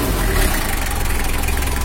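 A Mitsubishi L300 diesel engine, freshly rebuilt with a new rotor head, idles steadily close by, a smooth, even low rumble with a fine rhythmic diesel clatter and no break.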